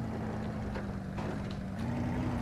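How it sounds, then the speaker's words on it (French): A Jeep engine in the video game Spintires strains uphill under load, a low steady droning hum that swells slightly toward the end, moderately loud and alone with no voices. "Ouh, le moteur, elle a du mal."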